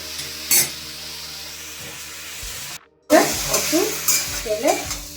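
Hot oil hisses and crackles in a pan while jackfruit and prawn curry is cooked, with a brief sharp spatter near the start, a short gap of silence, then louder bursts of sizzling and clinking as cooking resumes.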